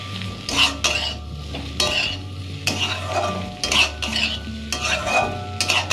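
Slit green chilies and potatoes sizzle steadily in a frying pan, with a spoon repeatedly scraping and stirring against the metal. The stirring comes in loud, close, rhythmic strokes.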